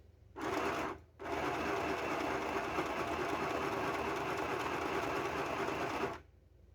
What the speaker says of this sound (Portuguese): Aí, a gente continua a nossa costura.